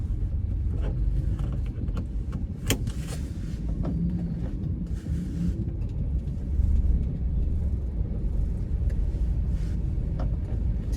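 A Daihatsu Sigra M 1000cc car creeps through congested stop-and-go city traffic, a steady low engine and road rumble heard from inside the cabin with a few faint clicks, no one speaking.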